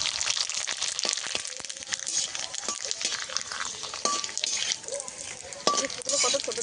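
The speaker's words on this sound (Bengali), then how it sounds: "তেল গরম হয়ে গেছে, একে একে দিয়ে দেবো চিপসগুলোকে ভেজে নেওয়ার জন্য।" Small flour chips fry in hot oil with a dense, crackling sizzle and occasional clinks of a utensil, steady and close throughout.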